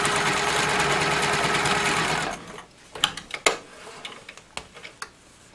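Sewing machine stitching the seam of a custom bench seat cushion, running steadily and loud for about two seconds before stopping, followed by sparse, sharp clicks and taps of handling.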